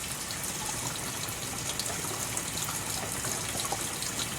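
Water gushes steadily from two garden taps into a water tank, a loud continuous rushing fill with no pauses, close and alone.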